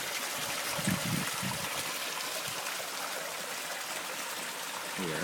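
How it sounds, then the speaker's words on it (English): A garden waterfall spills over rocks into a small lined pond, giving a steady, close rushing splash of water that holds at an even level throughout. "if you look down, you can see the water falling"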